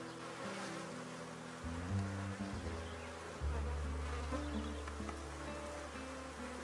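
Honey bees buzz densely and continuously around an open hive during a colony split, a steady close swarm drone filling the whole stretch with shifting low tones.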